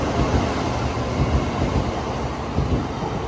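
A Hikari Shinkansen bullet train in Japan runs at speed, producing a continuous loud rushing roar with faint rail rumble and no pauses.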